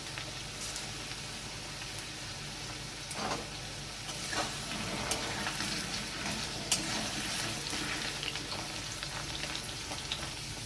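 Bay leaves and whole garam masala fry with lightly fried potatoes in a pan, making a soft continuous sizzle with occasional faint ticks and scrapes, fairly quiet and steady throughout.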